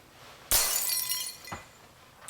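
A glass-smashing sound effect: a loud, sharp crash of breaking glass with a trail of tinkling shards, then a second shorter smash about a second later and a third beginning just before the end.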